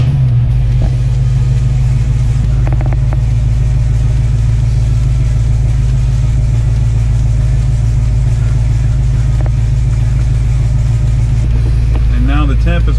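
A 1966 Ford Mustang engine runs at a steady, loud idle for the whole stretch, a constant low rumble close to the car with no voices.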